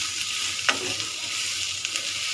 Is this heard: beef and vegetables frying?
yes